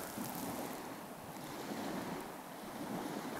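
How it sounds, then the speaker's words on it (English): Waves breaking against an Icelandic shoreline, a steady broad wash of surf with wind noise buffeting the microphone, continuous and fairly soft throughout. "I can hear the sounds of the waves against the shore"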